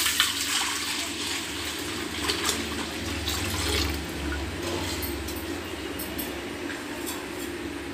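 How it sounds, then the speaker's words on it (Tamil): Boiled and cooled milk pours into a pan on the stove for a semolina almond kheer, a continuous liquid splash and trickle close by with a low hum underneath. "காய்ச்சி ஆற வச்ச பாலை ஊற்றிக்கலாம்."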